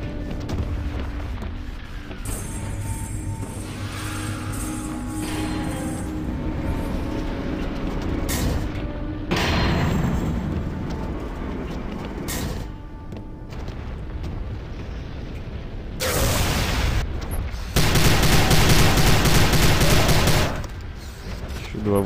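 Gunfire in the video game Prey, loud bursts of shots and blasts layered over game sound and ambient noise, with heavier dense volleys near the end.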